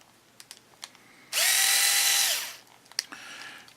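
A power drill whines up loudly for about a second, holds, then winds down while drilling wood on a model build, with light clicks and taps before and after.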